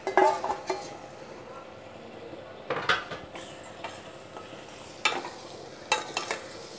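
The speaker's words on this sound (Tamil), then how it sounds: "இப்போ அந்த பாயில் பண்ணி வச்சுருக்கிற இந்த மட்டனை வந்து நான் சேர்த்துக்க போகிறேன்" Boiled mutton is stirred into frying onion and tomato for mutton sukka gravy, with a soft sizzle under repeated clanks and scrapes of a spoon against the pan coming in bursts.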